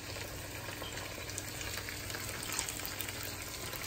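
Potatoes fry in a pan with a dense, steady sizzle that stays level and close throughout, without any speech.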